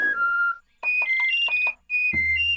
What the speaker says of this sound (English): let me just do the whistle for this guy first